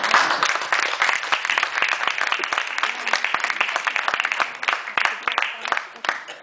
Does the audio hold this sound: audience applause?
yes